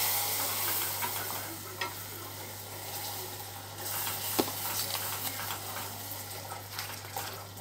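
Salted butter caramel, with butter just added, is stirred in a pan: a continuous bubbling sizzle with scraping stirring strokes, under a faint steady hum.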